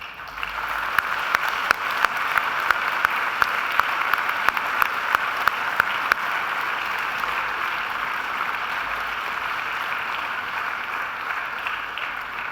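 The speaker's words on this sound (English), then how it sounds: "And now please give them an almighty round of applause." Graduates at a Macquarie University graduation ceremony applaud their family and friends in the hall, a dense, steady roar of many hands clapping that holds for about twelve seconds with no talk over it.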